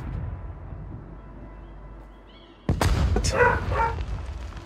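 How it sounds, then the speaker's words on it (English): After a quiet stretch, a rocket explodes with a sudden loud boom in a video game after missing a helicopter, followed by crackling, rumbling debris and scattered game sounds. "That rocket didn't hit that helicopter."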